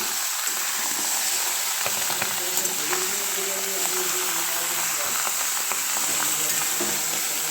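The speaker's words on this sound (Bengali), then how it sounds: "দেখো ফ্রাই হচ্ছে।" Duck meat fries in a pan with a constant bright sizzle and crackle, steady and close, with soft clinks and stirring beneath a person talking.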